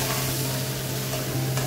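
Crab frying with masala in a pan over lowered gas for a Bengali crab dish, a continuous close sizzle with faint stirring, no voices.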